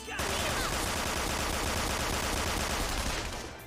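Sustained, dense burst of rapid gunfire in the video game Persona 5 Royal, loud and continuous from start to finish without a break.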